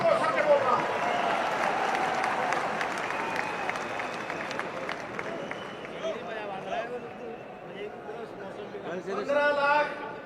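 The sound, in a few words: crowd applause at political rally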